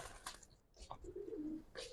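A Giribaz pigeon of the Palla line in a loft gives one soft, faint coo after a few quiet clicks and rustles, with no talk over it.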